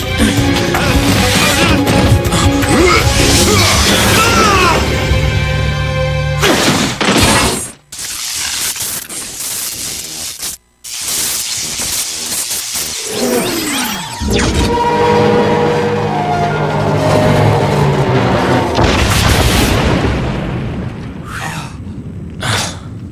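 A generator is shot and blows up in the Megaman X Maverick Hunter game, giving loud, dense blasting and crashing noise with shattering bursts that fill almost the whole stretch and drop out briefly twice.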